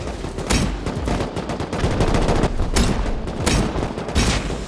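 Gunfire in the video game Rust: rapid bursts of loud shots and fusillades crackle in quick succession throughout, dense and close with no pauses.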